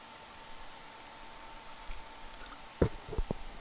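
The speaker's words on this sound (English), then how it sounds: "You can still hear me chewing, even though it was on top of my head." Someone crunching Doritos tortilla chips, a few sharp close crackling bites near the end after a quiet stretch of faint background hiss.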